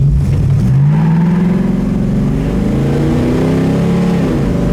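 A 1965 Mustang Fastback engine revs up loudly close by, its pitch climbing and falling through a few throttle blips over a steady rumble, with no voices.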